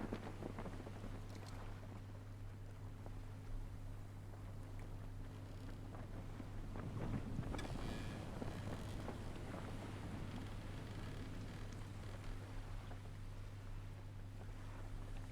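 A small boat sails across open water in the survival game Stranded Deep, with a low steady hum, wind and waves washing around the hull, and a brief louder swell midway.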